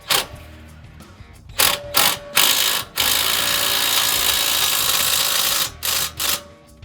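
Impact wrench fitted with a 1/2 inch adapter and 21 mm socket driving a bolt at the bottom of a front strut assembly on a 2011-2014 Mustang; a long, loud, continuous rattling hammer burst after several short bursts, then more short bursts.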